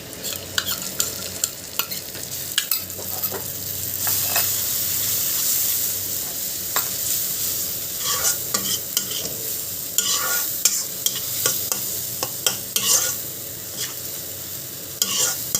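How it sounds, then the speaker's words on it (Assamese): Spice paste frying with browned onions in oil in a pan for a jackfruit curry, with steady loud sizzling hiss and repeated scraping stirs of a spoon against the pan throughout. "ইয়াত দেখিছেনে, মছলাখিনি ভাজি হৈছেগৈ, অকণ অকণ তেল ওলাইছে।"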